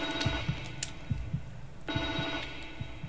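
An old telephone rings in The Evil Within 2, a bell-like ring repeating in short bursts with a steady rhythm and a pause midway, fairly clear and alone without talk.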